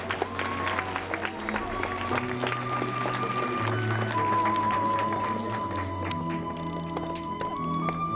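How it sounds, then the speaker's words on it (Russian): An award ceremony audience applauds steadily for several seconds while music plays underneath. "Аплодисменты."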